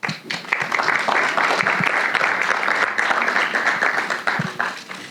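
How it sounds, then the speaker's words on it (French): An audience at a conference summit claps steadily and densely for about five seconds, filling the room evenly before the applause begins to thin. "je vais donner la parole à Mélanie et Sylvain d'Ozac, que vous pouvez applaudir."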